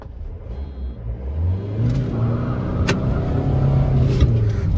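A Hyundai Venue diesel or Maruti Suzuki S-Presso petrol engine revs and climbs in pitch as it accelerates hard in a drag race on a wet road, a loud, close rumble building steadily across the clip.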